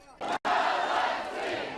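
Around two thousand people gathered in a square in front of the regional administration building in Luhansk chant and shout in unison, a loud massed roar broken by a brief pause before resuming and holding steady.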